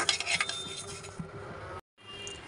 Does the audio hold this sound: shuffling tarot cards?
no